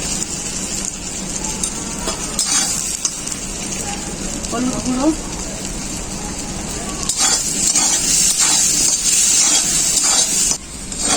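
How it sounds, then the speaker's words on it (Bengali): Salted potato pieces dusted with turmeric powder fry in hot oil in a pan, giving a steady sizzling hiss throughout while someone talks over it. "আলুগুলো ভাজা ভাজা হয়ে গেছে।"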